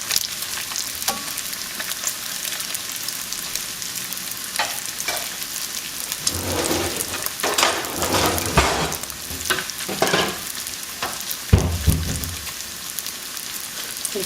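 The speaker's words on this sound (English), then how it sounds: "my bacon is going to be done here in like less than 30 seconds" Bacon crisps in a frying pan with a continuous close crackle and sizzle, and several louder bursts of spattering and pan movement in the second half.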